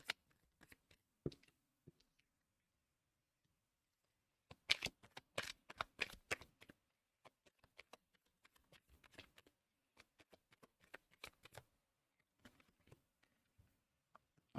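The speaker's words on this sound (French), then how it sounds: "Allez, je vais mettre toutes les cartes." Tarot cards being shuffled, with scattered soft flicks and rustles at first, then a denser burst of riffling, followed by lighter intermittent card taps and shuffles, close and fairly quiet with no voice.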